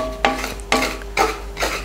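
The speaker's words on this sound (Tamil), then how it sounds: "இந்த ரவை கொஞ்சம் சூடாகிற வரைக்கும் மட்டும் நல்லா வறுத்துக்கலாம்" Rava semolina roasts dry in a pan while being stirred, with three or four scraping sweeps of the spoon against the pan over a low hum. It is close, with no voices.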